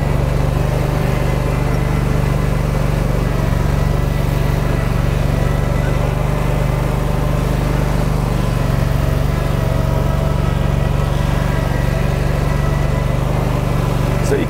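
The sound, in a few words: Cub Cadet Pro Z900 zero turn mower driving across hill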